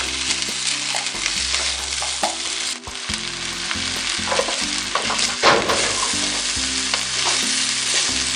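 Steady, loud sizzling and crackling of potatoes frying in hot oil, with occasional stirring scrapes and no voices.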